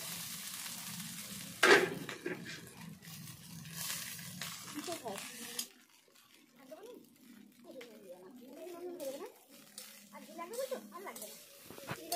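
Rice and vegetables fry in a pan at a small family picnic, a loud, steady sizzle that crackles with pops early on, then settles into a softer hiss while voices talk over it.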